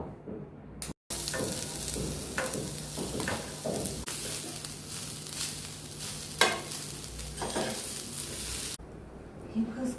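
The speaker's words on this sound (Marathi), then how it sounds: "हे तुपात भाजून घेणार आहे." Modak filling of seeds, poppy seeds and nutmeg roasts in ghee in a pan, sizzling steadily up close while a spoon stirs and scrapes through it.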